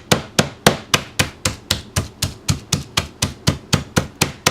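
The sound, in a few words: pounding chicken strips in cellophane to flatten them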